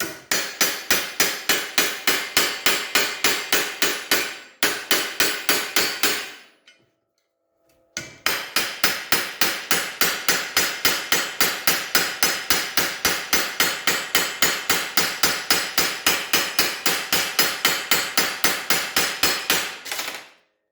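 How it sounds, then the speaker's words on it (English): A hammer strikes a rusty car drip rail in rapid, even, sharp metallic blows, loud and close, keeping up a steady rhythm that is broken by a brief pause of about a second before the pounding resumes. "I'm going to hammer on the side that I want to bring it up to"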